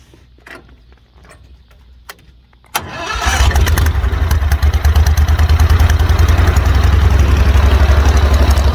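A few faint clicks, then a large airboat engine cranks and roars to life, settling into a loud, steady, rumbling idle.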